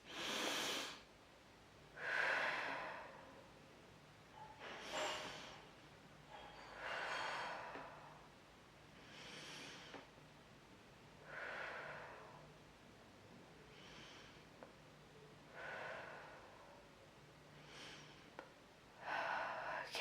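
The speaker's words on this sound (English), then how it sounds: "just taking 5 deep breaths" Slow deep breaths during a guided meditation, about eight soft inhale-exhale cycles at an even unhurried pace, close and quiet with no talk.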